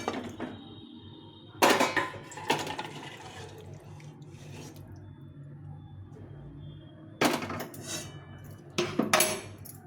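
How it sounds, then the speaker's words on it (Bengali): A metal pot is handled at a stove, with sharp clanks and scrapes as a lid goes on and the pot is lifted off. Several loud metallic bursts are separated by quiet stretches, all close by and with no talking. "একটু ঢাকা দিয়ে নামিয়ে দেবো"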